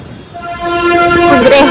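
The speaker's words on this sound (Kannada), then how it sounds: "toy train, Visakhapatnam toy train ನೋಡಿ" A toy train in Visakhapatnam gives a sustained, loud horn-like tone lasting over a second, with steady outdoor background noise around it.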